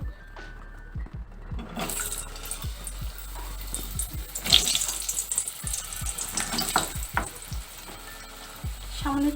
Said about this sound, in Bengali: সর্ষের তেল দিচ্ছি আলুগুলো ভেজে নেবো